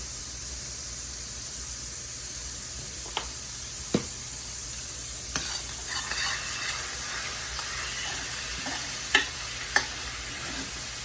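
Garlic and Italian seasonings sizzling in olive oil in a pan, a steady soft hiss throughout with a few sharp pops and clicks of stirring scattered over it.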